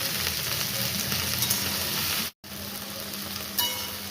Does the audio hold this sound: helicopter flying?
no